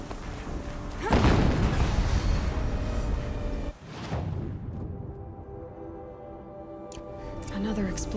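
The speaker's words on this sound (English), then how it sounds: "Another explosion." A second explosion in Horizon Zero Dawn Remastered in a snowy area, a loud burst near the start followed by a lighter thud a few seconds later, with voices talking over the game sound.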